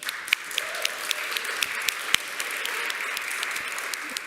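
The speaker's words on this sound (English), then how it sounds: "I think each of these deserve a round of applause" An audience at a startup awards ceremony applauds steadily, a dense patter of clapping from a crowd in a hall, with a few louder individual claps standing out throughout.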